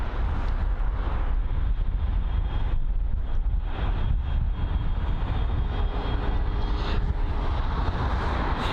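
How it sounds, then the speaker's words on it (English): A Boeing 787-9 Dreamliner arrives at London Heathrow from Dubai, its engines a steady broad roar mixed with wind buffeting on the microphone. "here it is, arriving from Dubai, the 7879 Dreamliner"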